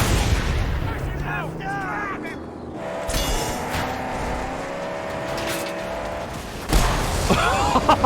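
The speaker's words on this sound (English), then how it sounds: "I do not know why that explosion was blue, but it looked great!" An explosion in the Mad Max video game erupts as a loud, broad blast over a running car engine, with a second burst near the end.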